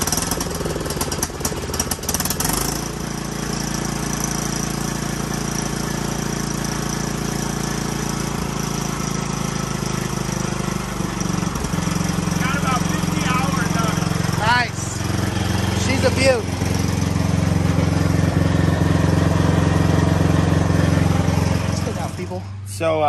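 A Cub Cadet lawn tractor engine, set on choke and started to warm the oil before an oil change, catches after a couple of seconds and then runs at a steady, loud, close-up drone until the end.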